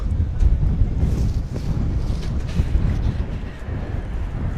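Strong wind buffets the microphone in heavy, rumbling gusts along a Tokyo street, loud and continuous with brief dips, and no one speaking.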